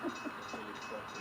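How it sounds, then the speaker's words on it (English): Model train, GN Big Sky Blue GP diesels heading a manifest freight into the Interbay yard on a Seattle-themed layout, giving a faint, brief, steady rolling rumble. "And at this point, engineer Lisa Murray has got them on the point of a manifest train entering the Interbay yard in Seattle."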